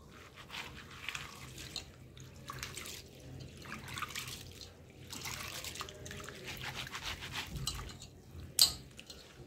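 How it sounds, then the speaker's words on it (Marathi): Soaked, split urad dal being washed by hand in water, with soft sloshing, trickling and dripping sounds that come in repeated bursts and one sharper splash near the end. "आता मी हिला चांगली स्वच्छ धुवून घेते।"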